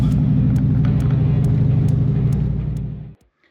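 A 1937 car drives along the road with a steady low engine rumble and faint periodic ticks, loud and close, then cuts off abruptly near the end.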